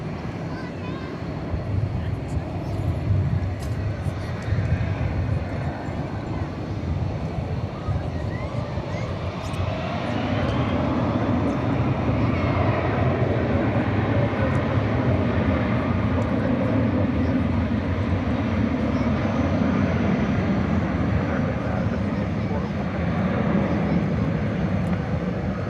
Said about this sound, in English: the Iberia A330 is next for takeoff